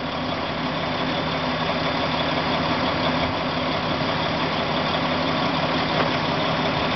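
A rock truck's diesel engine runs at a steady, loud idle with a constant low rumble throughout while it is loaded onto a low boy flatbed trailer.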